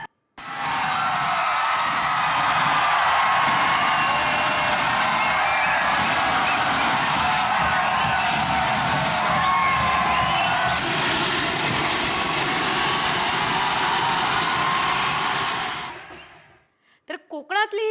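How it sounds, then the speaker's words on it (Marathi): A dense crowd of thousands of devotees gathers at a Konkan temple palanquin festival during Holi, producing a loud, continuous wash of voices and festive noise that runs steadily for about sixteen seconds before cutting off abruptly. "दिव्यांचं पाळणं पेटणारी पालखी भेटीचा हा सोहळा पाहण्यासाठी हजारो भक्तांनी या ठिकाणी गर्दी केलेली आहे."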